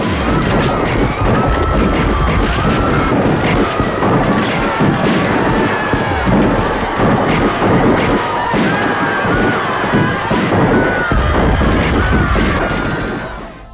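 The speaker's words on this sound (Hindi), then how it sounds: "उसने बिना किसी चेतावनी के निहत्थे लोगों पर गोलियां चलवा दी।" Soldiers fire into an unarmed crowd as a dense, continuous barrage of loud gunshots and booming blasts that goes on without a break, rendered as a dramatic sound effect.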